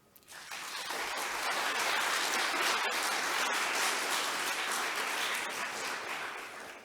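Applause for the candidates at the Livermore 2022 candidates' debate: clapping swells quickly from a quiet start into a full, sustained round from the audience, then eases slightly near the end.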